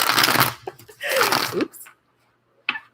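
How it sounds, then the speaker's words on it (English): Tarot cards are shuffled in two quick riffling bursts, near and crisp, with a short separate flick of cards afterward. "Nope, I messed up my shuffling."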